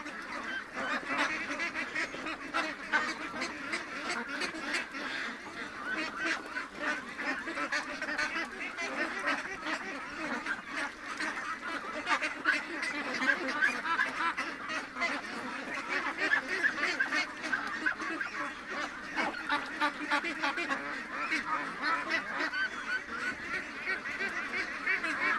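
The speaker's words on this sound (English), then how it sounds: "The geese won't leave me alone." Geese honk steadily and close by, a dense overlapping chorus of loud calls that carries on without a break for the whole stretch.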